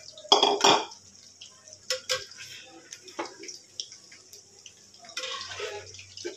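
Water poured into a handi pot holding chicken and curd, with a few bright splashes and clinks of metal near the start, then intermittent dribbles and faint clatter.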